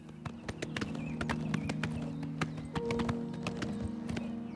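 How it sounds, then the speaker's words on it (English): Horse hooves clip-clop in a steady, brisk rhythm while riding in Oblivion Remastered, the hoofbeats close and fairly loud over a low droning ambience, with no talking. "I kind of like traveling by horse here. It's faster than walking"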